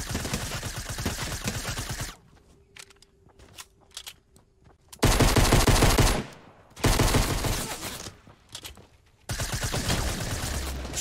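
Bursts of rapid automatic assault rifle fire in Fortnite rattle loudly in several separate volleys, with quieter gaps between them.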